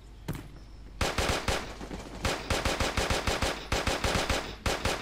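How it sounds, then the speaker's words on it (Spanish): Gunfire in the video game Creative Destruction crackles in rapid automatic bursts, loud and close, with short pauses between volleys. "Me está disparando, tío."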